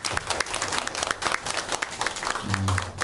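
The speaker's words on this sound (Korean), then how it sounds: "자, 우리 환영의 박수 한번 칠까요?" A church congregation applauds in welcome during a service, a broad, even roll of many hands clapping throughout, with a low voice or murmur rising briefly near the end.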